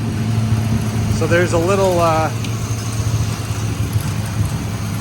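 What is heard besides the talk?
car engine idling after revival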